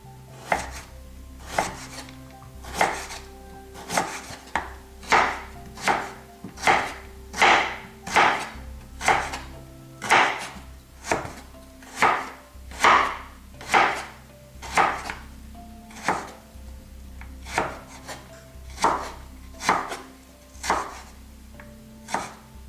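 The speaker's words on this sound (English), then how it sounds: "You can see I've cut the whole carrot here, just thin strips." A knife cuts a carrot into thin strips on a board, giving about twenty evenly spaced, crisp close-up chops in a steady rhythm with no talking.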